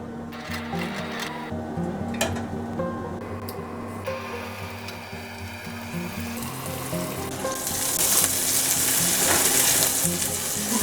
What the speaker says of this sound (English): After 1 hour, I'm going to shallow fry.